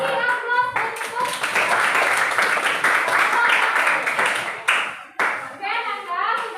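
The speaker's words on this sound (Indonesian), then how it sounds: "Beri aplaus untuk" Schoolchildren in an Indonesian classroom clap together in a loud, dense burst lasting several seconds, with a teacher's voice speaking just before and after.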